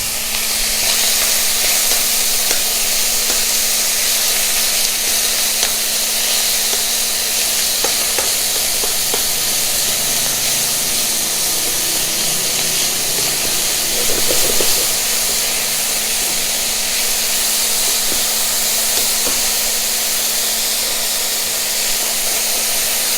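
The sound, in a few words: meat searing and sizzling in a frying pan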